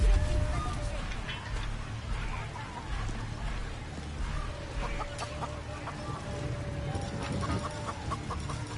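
Chickens cluck in the video game Baldur's Gate, with repeated short clucks over a steady rain-like background hiss while a voice talks over the game.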